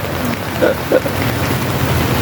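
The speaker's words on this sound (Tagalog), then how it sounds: "Tignan niyo naman ang panahon, ano nangyayari? Umuulan, madilim." Rain falling on a dark, overcast day, a dense steady patter with a couple of louder drops or splashes, close and continuous with no voices.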